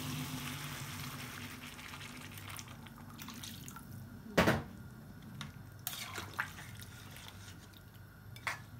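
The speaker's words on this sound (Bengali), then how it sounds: "এখন ঝোলটা দিয়ে দিই, এই যে ঝোল দিয়ে দিলাম।" Curry broth is poured into a pot of chicken or fish curry, giving quiet liquid splashes and drips, with one sharper splash in the middle and a few light spatters after.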